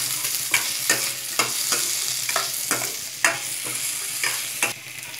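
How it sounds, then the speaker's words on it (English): Tomatoes frying in a pan for poha upma, stirred with a utensil in about ten distinct scraping strokes over a steady close sizzle, with no voices. "Let's stir it for a while"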